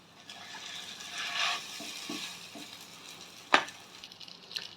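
Cooked rice stirred and fried in a pan for Tamil-style egg rice, a soft continuous sizzle with scraping stirs, a sharp clatter near the end, no talking.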